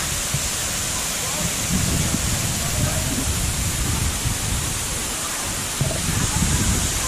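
Steady broadband rush of Kawasan Falls in Bohol, a continuous roar of falling water heard from nearby at a rocky, shallow pool, constant throughout with low rumbling swells underneath.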